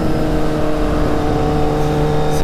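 Kawasaki Z800e motorcycle accelerating hard, its loud, close engine holding a steady, strongly pitched roar as it pulls, with no voices.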